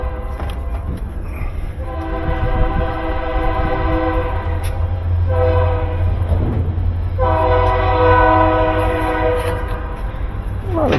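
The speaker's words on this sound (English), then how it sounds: "A lot of trains going through today." A train rumbles past at close range while its horn sounds several long, loud blasts, with steady rail noise underneath.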